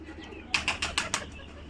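Farm pigeons in Savar, Dhaka flap their wings in a quick burst of about five close, soft whooshing beats lasting under a second.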